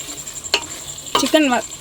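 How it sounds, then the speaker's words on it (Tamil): Brief bursts of chicken sizzling and stirring in a hot pan for Hyderabad dum biryani, a couple of short crackling bursts over a quiet, steady background hiss. "சிக்கன் வதங்கிடுச்சுங்க."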